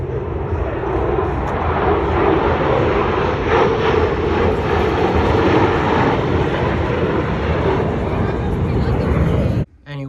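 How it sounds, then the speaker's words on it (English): A squadron of airplanes flies by during a Chicago air show, making a loud, continuous engine roar that swells and holds for several seconds before cutting off abruptly. "there was just like a squadron of planes just like casually flying by"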